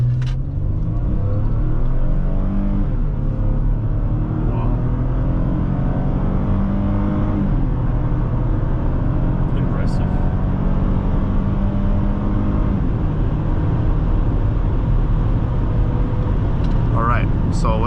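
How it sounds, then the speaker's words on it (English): A 2011 Lexus RX350 SUV with three people aboard accelerates hard in a 0 to 60 run, its engine note climbing steadily through shifts as a loud, continuous in-cabin drone. "now we are going to do our 0 to 60 test. See how quick this Lexus is"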